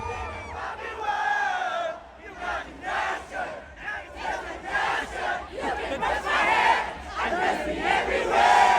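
Outdoor concert crowd at a festival in Shillong sings along in a loud, swelling chorus, the mass of voices rising and falling in rhythmic phrases as if following a pop song.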